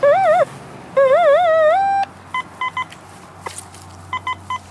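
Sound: metal detector ringing up on a buried coin

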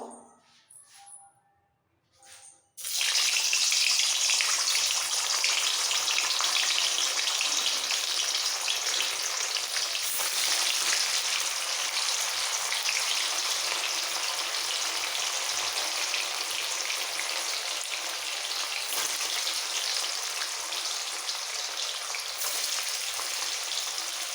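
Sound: paneer frying in hot oil

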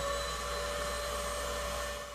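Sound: vacuum cleaner running with a Ventia dust collector attached

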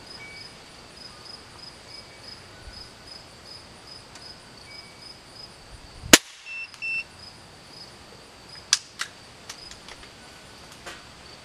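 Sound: gun shot fired through a chronograph

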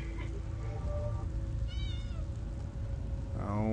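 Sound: cat meowing in The Elder Scrolls Online video game

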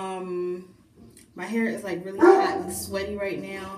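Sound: dog barking

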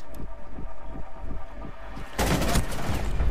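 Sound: gunfire in the video game Rainbow Six Siege

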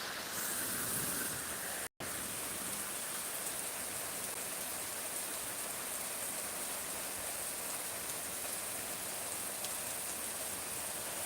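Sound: heavy rain falling

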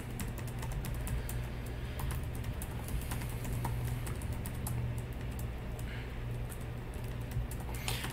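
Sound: typing code on computer keyboard

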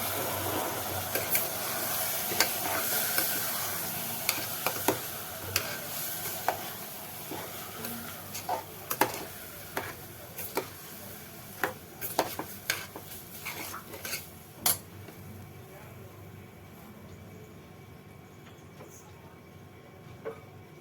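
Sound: sautéing ingredients in a pan for ven pongal

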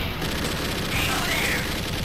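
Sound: gunfire in arcade video game Alien 3: The Gun

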